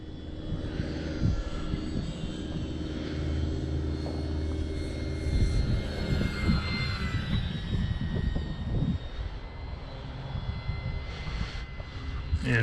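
E-Flite Commander RC plane flying in strong wind, its steady engine drone rising and falling with passes over heavy wind rumble outdoors.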